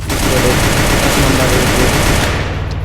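Loud, close automatic gunfire in a battle royale shooter, a sustained rapid machine-gun rattle that runs almost without pause before cutting off near the end.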